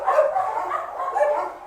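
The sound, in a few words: many dogs barking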